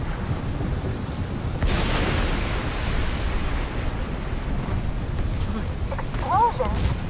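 Heavy explosion rumbles in the video game The Division 2, a deep sustained booming roar that swells midway and continues, with a brief voice near the end.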